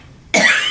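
A single short, sharp cough from a woman with tumors, loud and close, bursting out after a brief quiet moment.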